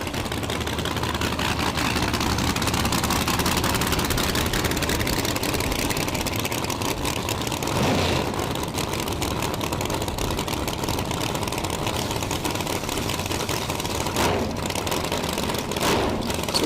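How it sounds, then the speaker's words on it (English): A nitrous drag racing car with quad zoomie headers idles loudly and continuously at a drag strip in South Georgia, its rough, throbbing rumble steady throughout with small blips of revving. "Getting the old nitrous machine backed up here with the quad zoomies."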